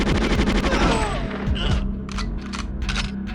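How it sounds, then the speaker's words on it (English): Gunfire rattles through the floor in GoldenEye 007, a loud, dense burst of rapid shots and booming impacts that thin into several sharp separate cracks near the end. "Are they shooting through the floor?"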